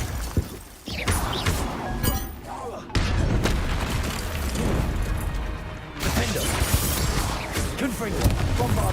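In Hogwarts Legacy, Confringo and Bombarda spells burst in a rapid chain, with heavy booms and shattering crashes piling up loud and close, and a voice talks over the din.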